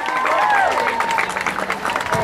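A crowd at a Hollywood Chamber of Commerce event applauds briefly, with voices cheering over the clapping.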